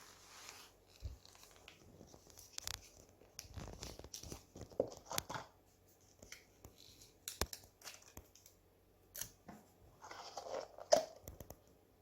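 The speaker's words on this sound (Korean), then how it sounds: "테이프로 고정합니다." Adhesive tape torn and pressed onto a paper pattern held between translucent half-spheres while building a UFO model: scattered short rips, crinkles and taps, close and quiet, with irregular pauses between them.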